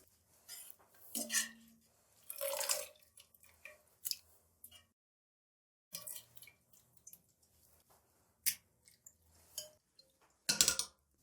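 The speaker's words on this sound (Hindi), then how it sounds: "बिल्कुल हम चिल्ड पानी के अंदर पालक को निकाल देंगे" Clinks of utensils against a pot and sloshing water come in scattered bursts as spinach is put into chilled water, with quiet pauses between the handling sounds.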